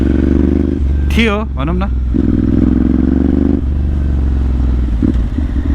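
A Ducati Monster motorcycle ridden along the roads near Chandeshwari, its engine holding a steady, loud, close drone throughout while someone talks over it.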